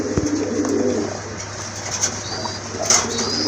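A male crested domestic pigeon, one of a breeding pair, coos repeatedly at close range amid soft flapping and other birds in a loft, with no talk over it.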